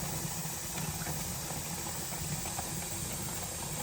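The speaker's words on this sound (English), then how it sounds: "We are now steaming. You're gonna let it exhaust like this for 10 minutes" A steady, broadband hiss of steam venting continuously from a pressure canner before the regulator goes on, with a low rumbling undertone and no pauses.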